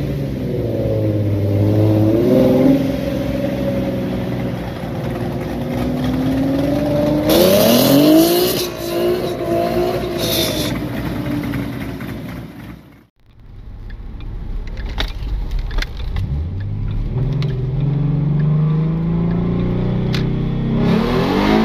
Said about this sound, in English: I will try and put a couple clips in right now of this car launching a little bit